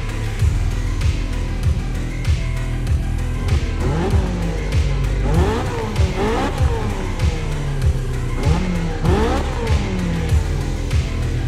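A Honda race car engine in The Crew Motorfest video game revs repeatedly, loud rising and falling bursts of acceleration with gear shifts and occasional tire squeal throughout.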